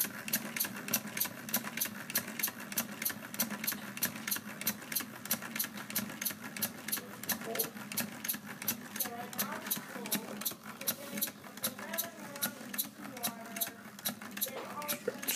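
A Lego single-cylinder engine with a fly-ball governor, driven by an air compressor, chugs in a fast, steady rhythm of sharp puffing clicks that keeps pace throughout, with faint speech in the background.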